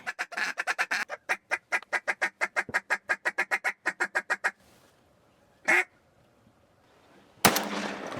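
A hunter's duck call blares a fast run of about twenty loud, evenly spaced quacks during a waterfowl hunt, then a pause, one more short call and a louder burst of noise to finish.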